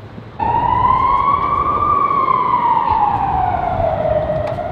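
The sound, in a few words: emergency vehicle siren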